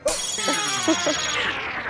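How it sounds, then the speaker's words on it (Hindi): An incoming call sets a phone ringing with a short, melodic electronic ringtone that plays a few bright repeated tones up close over a quiet room background. "उनका फोन आ गया।"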